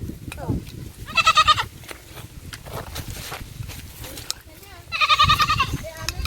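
Two loud, quavering goat bleats sound close by in rural Jamaican bushland, separated by a few seconds, while someone speaks and scuffling footsteps come through in between.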